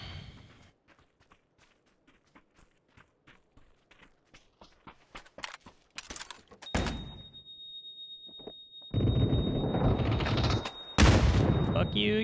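MG3 machine gun in a video game, distant rapid bursts of fire early on, then loud close sustained automatic firing with dense crackling shots toward the end.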